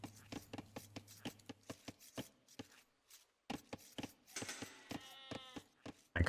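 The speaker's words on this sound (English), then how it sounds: "I grabbed the sheep that we missed." Sheep bleat in an Age of Empires II match, short game bleats over a busy stream of clicks, chops and unit sounds, with a clearer, longer bleat near the end.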